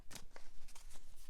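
A bootleg Wild Unknown tarot deck of bendy cards is shuffled close up, giving a quick run of crisp papery riffles and flutters in several short bursts with no voice.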